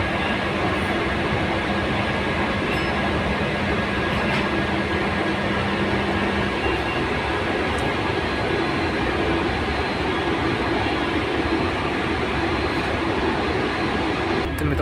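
A Mumbai metro train near Sakinaka station produces a steady, loud rumble and rushing wheel noise that continues throughout, with faint squeals and no speech.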